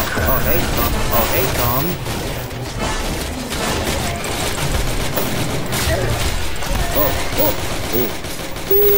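An artillery barrage in a wartime video game: a dense, continuous rumble of explosions and crackling gunfire fills the whole stretch, while a player talks over it.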